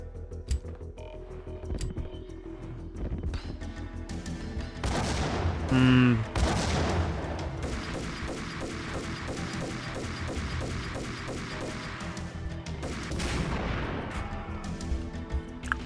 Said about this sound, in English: pump action shotgun just is too slow